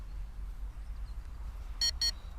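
Two short, bright electronic beeps from a Yuneec Breeze drone during calibration sound in quick succession over a faint low hum, fairly close and clear.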